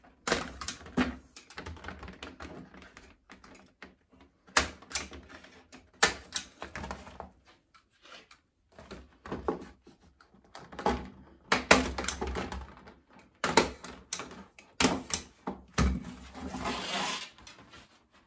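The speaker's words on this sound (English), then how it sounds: "I have a stapler at home, so I'm going to use a stapler" A hand stapler drives staples into a homemade lawn sign, giving repeated sharp snapping clacks in irregular bursts, close and fairly loud, with short pauses between groups.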